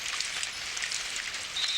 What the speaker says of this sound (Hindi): वाओ, ये तो बारिश है।